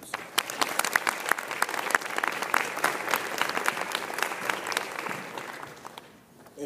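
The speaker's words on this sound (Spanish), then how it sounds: "Recibámosla con un aplauso." An audience at a university lecture in Guadalajara breaks into sustained applause to welcome a speaker, dense clapping for several seconds that thins out toward the end.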